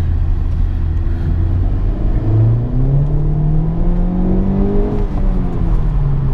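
Honda Civic Type R engine pulling hard through second gear, a steady loud drone with pitch climbing smoothly as revs rise toward about 6,000 rpm, continuous with no break or talk.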